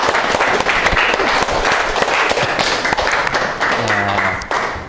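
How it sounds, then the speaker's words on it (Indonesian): Classroom applause for a student group, loud and dense clapping from many students close by, sustained throughout with a few thumps and a brief voice near the end. "Tepuk tangan untuk kelompok 4."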